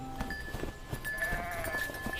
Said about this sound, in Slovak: To sú tvoje kozy?